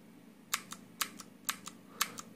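Cherry MX Blue mechanical keyboard switches clicking, four crisp key presses in an even rhythm, each a sharp click followed by a softer return click, close and alone over a faint hum.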